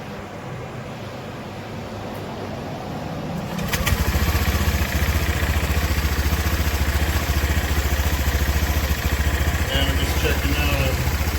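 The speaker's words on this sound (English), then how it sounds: "I'm going to start the bike" A 2013 Honda PCX150 scooter engine cranks and catches around four seconds in, then settles into a steady, loud, close idle that runs uninterrupted to the end.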